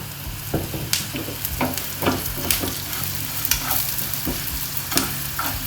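Coriander seeds roasting in a hot pan for a cucumber sambar, with steady sizzling and frequent scraping strokes of a spoon stirring them, close and fairly loud, no voice.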